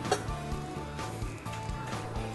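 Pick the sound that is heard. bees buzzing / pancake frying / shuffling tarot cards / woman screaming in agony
pancake frying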